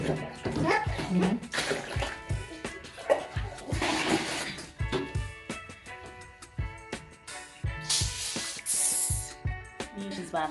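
Water splashes and sprays in a bathtub as a child bathes, with irregular close splashing bursts and a voice and other talk mixed in.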